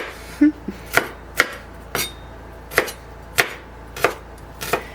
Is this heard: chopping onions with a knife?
yes